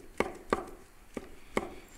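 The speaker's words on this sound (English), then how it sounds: "And then you're gonna chop them up." A knife chops thin slices of ingredients for a paste on a board, giving four sharp, quiet knocks at uneven intervals over two seconds.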